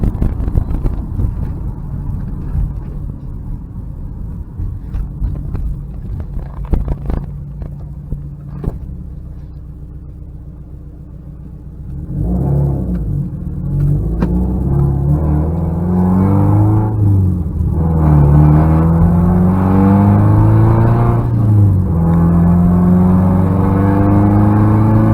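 A 2014 Subaru WRX Limited engine rumbles steadily while driving, then revs climb and fall through several gear shifts, loud and close with wind noise.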